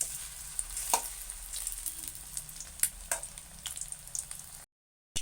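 Egg pieces fry in hot oil for an egg chilli dish, a close, steady crackling sizzle with scattered pops and a few louder clatters as they are turned, before a brief silence.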